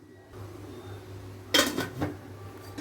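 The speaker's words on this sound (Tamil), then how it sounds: "இப்போ நான் வந்து மூடி போட்டு பார்க்குறேன் கரெக்டாக செட் ஆகுதான்னு" A lid set onto a cooking bowl in a home kitchen, heard as a close clinking clatter of dish contact followed by a second softer knock, over faint room hum.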